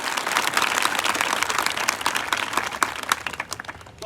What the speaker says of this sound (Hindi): ऐसे सरों के लिए भी ताली जो बच्चों को भविष्य बनाते हैं। जोरदार बजाओ यार